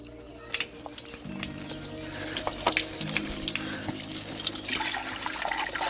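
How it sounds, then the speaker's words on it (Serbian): Water is poured into a container of steeped nettle fertilizer, a soft continuous splashing trickle at low level with faint background noise. "sipat ću naravno još vode"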